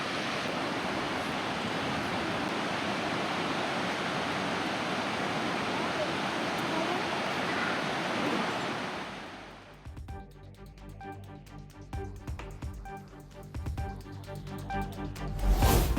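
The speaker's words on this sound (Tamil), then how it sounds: "முதுமலை புலிகள் காப்பகத்தில் அமைந்துள்ள மாயார் நீர்வீழ்ச்சியில் ஆர்ப்பரித்து கொட்டும் தண்ணீர்" Roaring water pours at Mayar waterfall in Mudumalai Tiger Reserve after heavy rain, a loud, steady broadband rush for about nine seconds before it cuts to quieter, scattered sounds.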